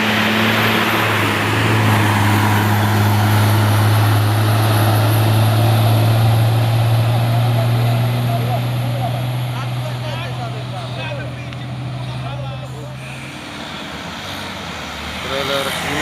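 A Fuso container trailer truck labours up a steep hill, its engine droning loud and deep in a sustained near roar that gradually fades, with a voice speaking over it.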